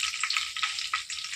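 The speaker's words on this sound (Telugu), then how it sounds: "సో సిమ్లో పెట్టుకుని ఫ్రై అవనిద్దాం." Curry leaves sizzle steadily in hot oil over low heat, a dense, continuous crackle with small popping bursts, close and alone.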